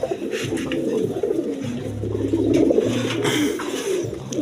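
Red-coloured pigeons in a loft cooing close by, with low, steady, throaty coos that repeat and overlap against a soft background.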